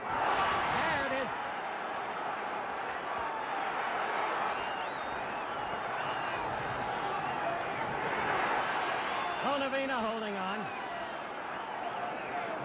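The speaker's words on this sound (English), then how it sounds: "Crowd alive for a change." A boxing arena crowd roars steadily through the Muhammad Ali vs Oscar Bonavena fight, a constant dense wash of noise that swells slightly, under a commentator's voice.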